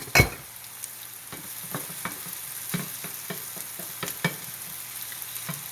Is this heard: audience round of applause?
no